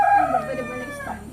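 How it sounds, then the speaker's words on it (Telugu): Egg-laying hens in a coop give a short run of close, loud clucks and calls that fade slightly toward the end. "కోళ్ళు ఉన్నాయి లోపల."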